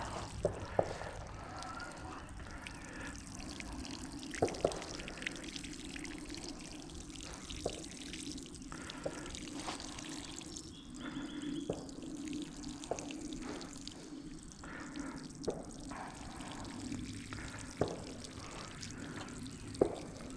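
Water pours and trickles quietly onto vegetable garden plants, with scattered drips and splashes over a soft, steady flow.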